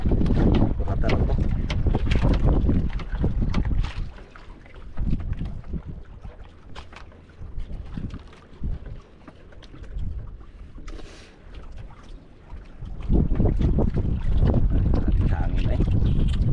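Strong gusting wind buffets the microphone in loud rumbling bursts, easing in the middle before roaring up again, with faint talk underneath.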